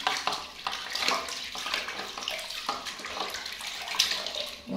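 Tap water runs and splashes steadily while a baby monkey's face is washed, with brief clattering and sloshing interruptions, close and moderately loud.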